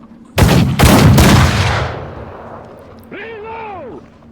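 Loud rifle volley from a first rank of soldiers in a video game, two sharp cracks close together rolling into a long decaying echo, followed by a brief wavering shout.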